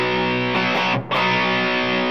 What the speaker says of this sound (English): If I have my distortion kind of cranked